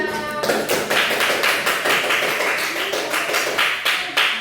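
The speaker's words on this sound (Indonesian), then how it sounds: "Give applause to Masya." A class applauding a student named Masya in an Indonesian classroom lesson, with dense, steady clapping from many hands that carries on through the whole stretch without talk.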